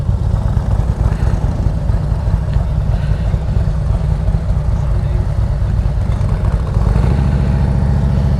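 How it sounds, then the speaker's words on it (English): Five Harley-Davidson motorcycles idle together in a loud, continuous low rumble of engines nearby, with a slight rise in revving near the end. "So we got 5 bikes, all Harley."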